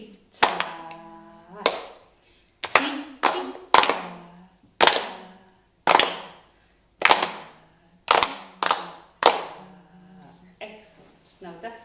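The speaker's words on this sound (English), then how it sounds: "Now could we clap that rhythm together so please?" A class in a school music lesson claps a rhythm together, producing about a dozen sharp, unified hand claps in a patterned sequence of short and longer gaps, crisp and close with a slight room echo.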